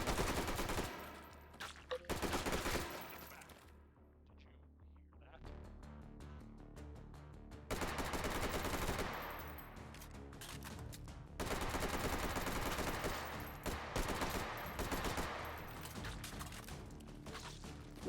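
Rapid gunfire from a weapon fired by fast trigger pulls in the VR shooter H3VR, heard as loud dense bursts separated by quieter pauses, with a voice talking between the bursts.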